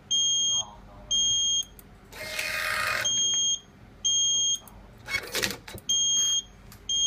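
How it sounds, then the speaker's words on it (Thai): An Epson TM-T88V receipt printer's buzzer sounds during a test print, short repeated high electronic beeps in a regular pattern, interrupted by bursts of printing noise and some speech. "ก็จะมีเสียงสัญญาณตอนปริ้นแล้วก็หลังปริ้นก็สามารถเลือกได"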